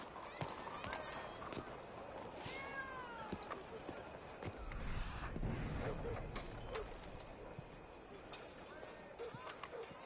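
A cat in Red Dead Redemption 2 meows a few times in short rising calls amid footsteps and game ambience, with voices talking around it.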